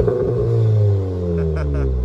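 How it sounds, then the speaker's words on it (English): A Volkswagen Golf R four-cylinder engine revving loudly and close by at a cars and coffee meet, the pitch rising and then falling away in one strong rumbling rev. "Listen to this Golf R, guys."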